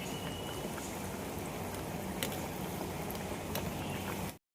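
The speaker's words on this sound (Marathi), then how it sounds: "मध्यम आचेवर तळले की ते छान आपले क्रिस्पी सुद्धा होतात वडे" Sabudana wadas deep-fry in oil with a loud, dense bubbling sizzle that runs steadily, with a few sharper pops, then cuts off abruptly into silence.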